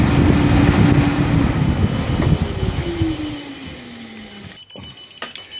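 Cooling fans on a Nissan 370Z whir loudly during an IPDM test, the motor's tone sliding steadily downward as they spin down and fade, followed by a few small clicks.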